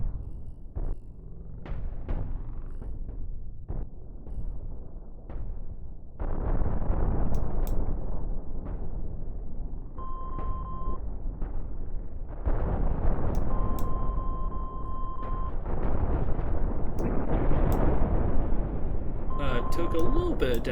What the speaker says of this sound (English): Well, there goes some more missiles.